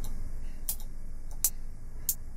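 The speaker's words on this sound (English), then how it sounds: "Hi-hats." Crisp, thin dubstep hi-hat samples ticking a few times, short bright hits spaced unevenly and fairly quiet over a faint noise floor.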